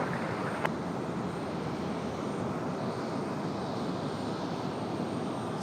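Southwest airliner taking off from runway 23 left at Raleigh-Durham airport, a constant broadband jet roar at moderate distance with one brief click near the start and no talk.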